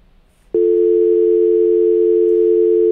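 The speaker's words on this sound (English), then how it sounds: "we hear a dial tone" After a brief quiet moment, a steady telephone dial tone starts abruptly and holds loud and unbroken to the end.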